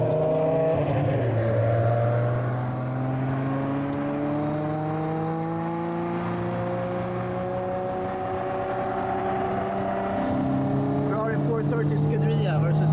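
Two Ferraris, a 430 Scuderia and a 599 GTO, race each other, their engines wailing loudly and close with steady rising and falling pitch sweeps as they accelerate through the gears, continuous for the whole stretch.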